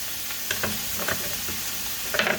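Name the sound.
onion added to sizzling meat in a pan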